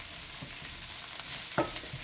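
Eggs with shrimp and chicken stir-fried in a wok for a Chinese-style egg foo young, giving a steady close sizzle with scraping spatula stirs and a sharper clatter near the end, no voices.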